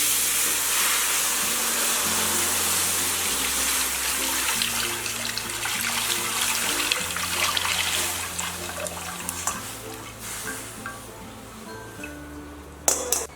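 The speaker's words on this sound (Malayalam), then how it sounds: "ഇനി നമ്മൾ ഈ എടുത്തു വെച്ചിരിക്കുന്ന തേങ്ങാപ്പാല് ഒന്നും കൂടി അരിച്ച് ഇതിലേക്ക് ഒഴിച്ചു കൊടുക്കാം." Strained coconut milk pours into an uruli pot, a steady liquid rush under faint background music that thins toward the end.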